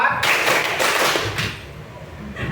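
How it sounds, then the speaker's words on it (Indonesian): A classroom of students claps a counted rhythmic pattern led by an instructor, with several broad clap bursts in the first half-second to second and a half before they thin out, fairly loud and close. "Tepuk 1, tepuk 2, tepuk 3, tepuk 4"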